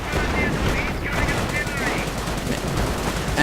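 Dense, continuous machine gun fire from a World War II video game battle between German Panzer Grenadiers and US/Commonwealth forces, loud and close, with bursts overlapping into a sustained rattle.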